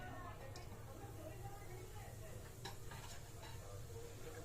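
Malvani masala hits hot oil in a pan for egg curry, giving a faint, steady hiss of frying with a few light clicks and scrapes.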